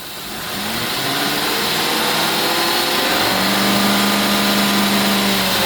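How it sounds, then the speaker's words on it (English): A 2002 Northstar engine with a misfire and lean O2 sensor readings is revved up to high RPM, a steady loud, rising mechanical roar that holds sustained throughout without any talk. "I'm going to go ahead and bring this up on high RPM."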